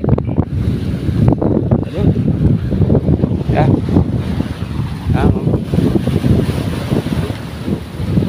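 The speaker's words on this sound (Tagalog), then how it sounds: "Lalaki ng alon sa laot, namumuti." Heavy wind buffets the microphone over a steady roar of big whitecapped ocean waves crashing, loud and continuous, with a short spoken word near the start.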